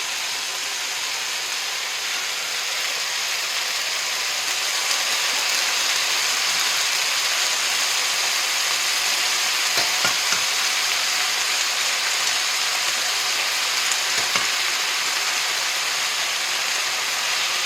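Fresh rice noodles fry in a hot pan with bok choy and beech mushrooms, giving a steady, close hiss and sizzle with a few soft clicks and stirs.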